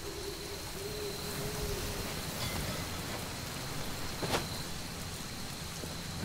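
Steady rain pours in the Midnight Suns game, a soft continuous hiss heard alone with a faint tonal hoot early on and a brief crackle near the end.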